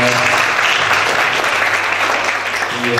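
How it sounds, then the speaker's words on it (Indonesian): An audience at a youth leaders' Christian retreat talk show claps together in a brief, dense burst of applause that stays steady and fills the room for about three seconds. "Berikan tepuk tangan dulu."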